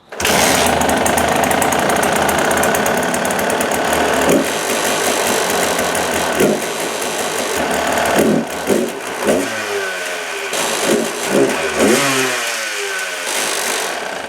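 A two-stroke engine with a lowered carburetor float height runs close by for about fourteen seconds, first at a steady high idle and then through several sharp revs that rise and drop unevenly.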